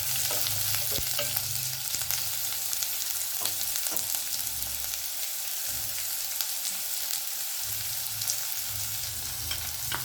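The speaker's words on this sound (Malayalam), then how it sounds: "ഇപ്പം നമുക്ക് അരിഞ്ഞ് വെച്ചിരിക്കുന്ന സവാള ഇടാം. നല്ലോണം വഴറ്റിയെടുക്കുക." Chopped onion and curry leaves sauté in a pan for a kadala curry, a constant soft sizzle with scattered small crackles and occasional clicks of the stirring spoon.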